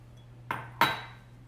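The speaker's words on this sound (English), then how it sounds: "I whisk it over here." A whisk strikes a bowl twice while lemon juice, garlic and an oil substitute are mixed into an oil-free Lebanese slaw dressing, giving two close, sharp clinks over a steady low hum.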